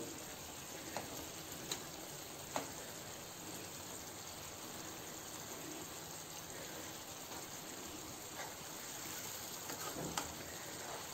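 Coconut milk with pomfret fish bubbles and sizzles steadily in a tawa, a continuous close crackling hiss with occasional small pops and no talking.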